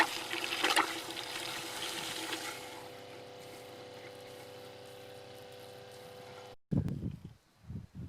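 Water rushes from a homemade hot tub line being bled, a steady hiss that drops off into a brief silence before sputtering out in uneven, gurgling bursts.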